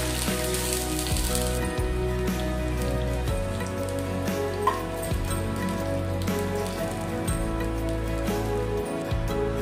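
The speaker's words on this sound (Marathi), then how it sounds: "बघा, आता पाणी उकळत आहे।" Water heating in a pan with a little oil and cumin, before semolina goes in for burger patties, gives a steady, dense crackling and bubbling hiss that stays close and continuous throughout.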